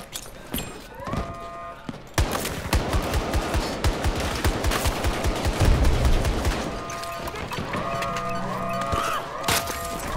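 Gunfire in the Battlefield 2042 video game: rapid, rhythmic bursts of automatic fire that are loud and dense, with some sharper single shots mixed in.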